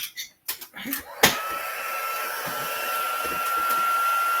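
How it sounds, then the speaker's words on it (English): An embossing heat tool for die-cut cardstock starts after a few brief clicks and knocks. It then warms up with a steady, loud, close blowing whoosh like a hair dryer. "I always like to heat up my heat tool a little bit before I start heating."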